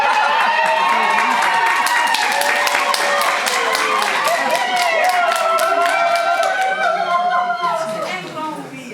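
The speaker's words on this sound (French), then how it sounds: "Vous auriez dû applaudir plus tard," A crowd of wedding guests claps rapidly together, mixed with cheering and excited voices, the applause slowly fading toward the end.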